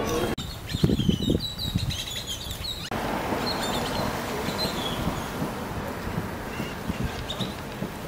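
Seagulls at Ensenada, Mexico, seen from a cruise ship, call in scattered high cries with some wing flapping over steady wind and harbor noise.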